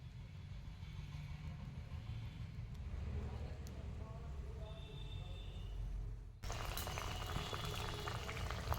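Fish curry sauce with bitter gourd and eggplant boiling in a pot, a steady low bubbling and hiss that grows brighter and louder partway through.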